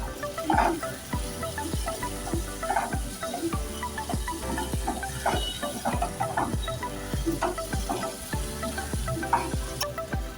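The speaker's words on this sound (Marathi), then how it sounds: "आपल्या लसणाचा ना कच्चा वास जाईपर्यंत आपल्याला हे थोडं परतवून घ्यायचं एक दोन मिनिट" Garlic cloves sauté in a pan for dry bhindi masala, a steady sizzle running throughout with a regular rhythm of spatula scrapes and stirs, close and fairly loud, with no talking.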